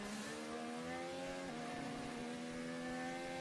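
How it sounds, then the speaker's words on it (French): A Formula 1 race car engine holds a sustained high whine at the Saudi Arabian Grand Prix, its pitch dipping and wavering briefly partway through, loud and close with no talk. "Petite oscillation moteur, vous l'avez entendu"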